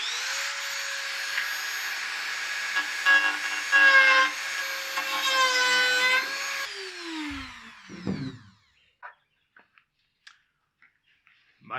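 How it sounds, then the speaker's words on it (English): Handsaw cutting the cracked end off a PVC pipe for a basic hydroponic system, a steady rasping saw stroke sound lasting several seconds, close and loud, ending as the cut piece drops, followed by a few faint handling clicks. "Maybe just a handsaw, just so I can trim out this crack and this crappy looking end here."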